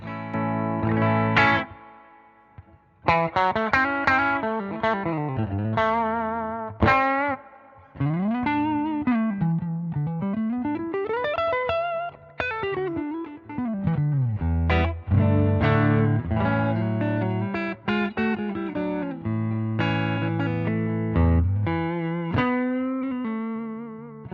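A clean electric guitar through a Centura boost pedal rings out with a slightly lifted, wet tone, playing sliding melodic lines and held chords with a wobbling shimmer, alone and fairly loud.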